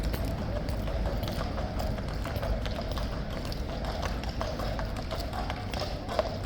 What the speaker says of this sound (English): Horses, police horses are coming through as the guard is returning to his post.